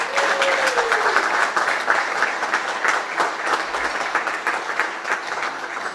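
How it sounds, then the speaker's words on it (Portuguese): Sustained applause from members, officers and supporters at a Sporting fan club general assembly in Oliveira de Azeméis, a dense, steady wash of clapping holding for about six seconds with a faint tonal sweep near the start. "para quem eu peço uma grande salva de palmas"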